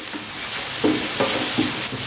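Vegetables with salt sauté in a hot pan for soya meat kothu, a loud continuous sizzle broken by several quick stirring scrapes.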